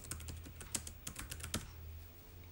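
Steady typing on a computer keyboard, a quick run of close, crisp key clicks with a few heavier strokes, then trailing off into quiet room tone.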